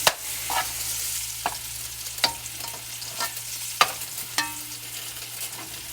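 Turkey drumsticks frying and browning in a pot, a steady soft sizzle with a low hum beneath and several sharp clinks and scrapes of stirring spaced through it; no one speaks.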